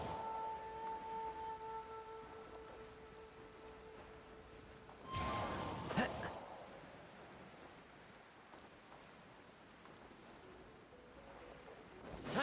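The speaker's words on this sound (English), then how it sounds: "Taking a stroll in the middle of a downpour certainly rouses the spirit." Steady downpour of rain in a video game, a constant hiss of falling water with a brief sharper burst partway through, no talking.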